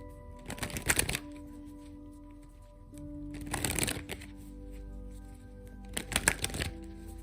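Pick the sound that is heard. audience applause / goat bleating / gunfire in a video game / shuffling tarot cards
shuffling tarot cards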